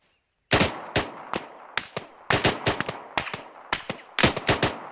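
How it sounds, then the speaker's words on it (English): Rapid bursts of automatic gunfire in the military video game Arma 3, with about a dozen loud, sharp reports in uneven clusters, the shooting coming from farther up a hill; no one speaks. "I think they're firing from a bit further up the hill."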